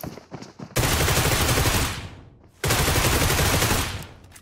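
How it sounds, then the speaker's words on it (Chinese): Two long bursts of rapid automatic gunfire in Peacekeeper Elite (PUBG Mobile), loud and close, each sustained for over a second before trailing off, separated by a short gap. "并尝试连续开枪，故意暴露我的位置"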